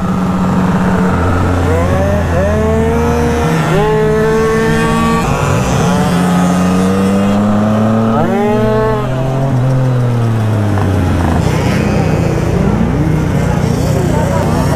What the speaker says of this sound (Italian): Sto motorino gira un botto!